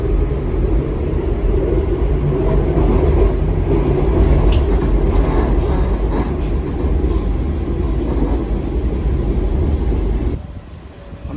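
A Metro train rumbles steadily near Potomac Yard, a loud continuous low roar of rail cars on track that holds for about ten seconds before dropping off abruptly near the end.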